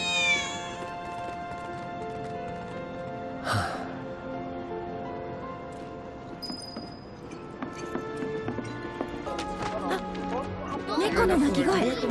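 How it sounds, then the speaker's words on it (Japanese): Cats meowing in the Final Fantasy VII Remake video game, a few short meows mixed with game music and sound effects, with talk over them. "猫の鳴き声、 三兄弟かな。"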